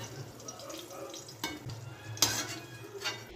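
Slit green chillies frying in hot oil, a faint sizzle with scattered pan and utensil clatters and stirring sounds, a sharper clank near the middle, fairly quiet and close.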